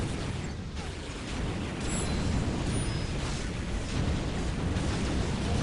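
Cannon blasts from an Eldar-versus-Dark Eldar battle in Dawn of War: Ultimate Apocalypse, a dense, continuous rumble of explosions and booming fire with little letup, loud and close throughout.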